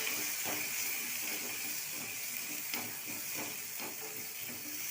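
Shallots frying in oil give off a steady, faint hiss and sizzle, with light scraping clicks from stirring now and then.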